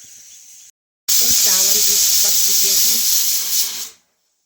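Kadhi boils on a wood-fired clay chulha stove with a loud, steady hiss and a bubbling sizzle that lasts about three seconds and then stops abruptly. A brief quieter hiss comes first, and a voice can be heard faintly under the sizzle.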